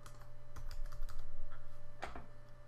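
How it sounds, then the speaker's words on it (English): An admin password typed on a computer keyboard, with a quick run of close, crisp key clicks and a louder keystroke near the end over a faint electrical hum. "we need to enter the admin password to confirm"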